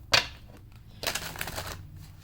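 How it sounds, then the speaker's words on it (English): A quick burst of rapid riffling, then a longer rustling flutter of cards being shuffled, close by with no talking. "feel like you require to see the card shuffle"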